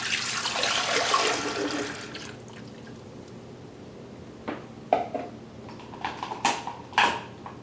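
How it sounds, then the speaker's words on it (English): Chilled coconut ice cream mixture poured into the canister of an ice cream maker, a steady liquid pour in the first two seconds followed by several distinct clinks and splashes, fairly close. "pour the chilled coconut ice cream mixture"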